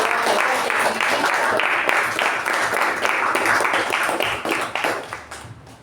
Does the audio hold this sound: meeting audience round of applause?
yes